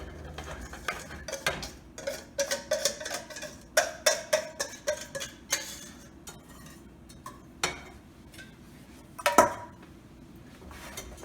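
Kitchen sounds of a mixture being added back to a pot for a gateau basque: irregular clinks and scrapes of a utensil against the pot, fairly close, with quieter pauses.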